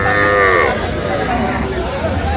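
Cattle and young bull calves at a busy livestock market, with one loud, drawn-out lowing call up close, followed by fainter animal calls and a murmur of voices in the background.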